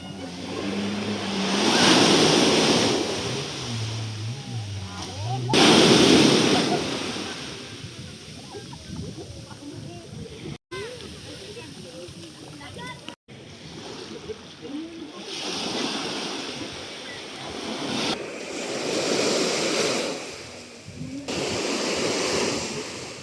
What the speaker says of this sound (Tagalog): Masyado malakas ang alon sa dagat